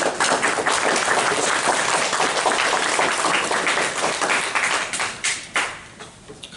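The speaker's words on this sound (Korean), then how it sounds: "감사합니다. 박수 주셔서." A church congregation claps during a worship service as the preacher comes up, with dense, lively applause and some sharp individual claps that thin out near the end.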